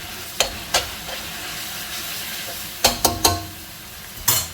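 Hakka noodle masala being stirred in a hot pan, with sharp scraping strokes against a steady low frying sizzle, several clustered near the start and middle and one near the end.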